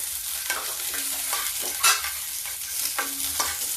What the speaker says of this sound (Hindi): पहले इन आलुओं को फ्राई कर लेती हूँ